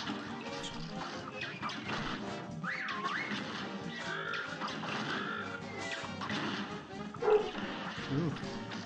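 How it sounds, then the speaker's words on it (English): A pet dog barks and whimpers indoors, in short yips and whines mixed under busy Cuphead game music and effects, with a few louder bursts near the end. "Pardon my dog."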